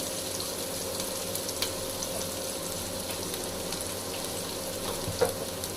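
Onions frying in a pan as a home cook prepares fish curry, a steady close sizzle with occasional soft stirring clinks and a faint sharper pop near the end.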